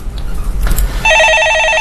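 A telephone rings loudly and close for a call-in stock consultation, a rapid electronic trill that starts after a moment of low background noise.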